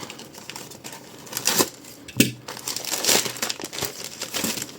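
Plastic bags crinkle and rustle loudly up close as soldering iron tips are unwrapped, in irregular bursts of crackling with short pauses between handfuls.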